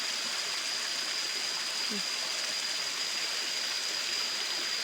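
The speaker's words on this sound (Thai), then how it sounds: "น้ำตก" Steady, continuous rushing of a waterfall and flowing stream, loud and unbroken throughout.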